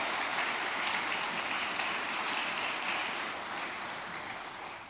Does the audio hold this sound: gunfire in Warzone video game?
no